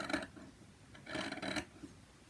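Scissors snip through fabric for a zippered knitting-project bag: two short raspy cutting bursts close by, separated by a pause, with no talking.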